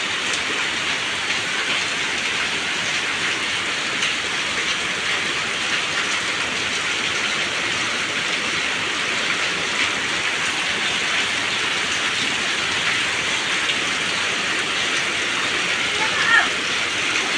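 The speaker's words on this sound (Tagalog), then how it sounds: "Lakas talaga ng ulan." Heavy rain pours steadily and densely, a constant close hiss and patter that stays even throughout with no letup.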